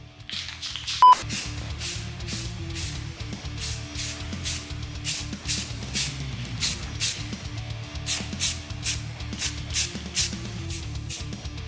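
Spray can coating the base of a Sears Custom 6 motorcycle in flat black: short repeated hissing bursts in a loose rhythm, close and moderate, after a single beep near the start, with a low hum underneath.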